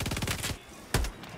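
Fast automatic gunfire in a video game, a dense burst of rapid shots for half a second, then a single loud crack after a short pause.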